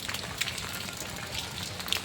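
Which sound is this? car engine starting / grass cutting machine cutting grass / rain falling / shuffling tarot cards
rain falling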